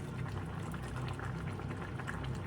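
Potato curry simmering in a pot, soft dense bubbling and burbling close by at low volume, steady throughout with no voices.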